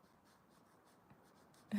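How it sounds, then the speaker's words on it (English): A marker scratches across paper in soft, rhythmic strokes during quiet coloring, faint and close, with a brief louder bump at the end. "There's even something kind of relaxing about hearing the sound of the marker on the paper."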